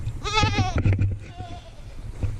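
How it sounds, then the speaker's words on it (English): Meat goats on a farm during kidding season give one loud, close bleat with a wavering voice, followed by quieter scattered farm noises. "we got meat goats"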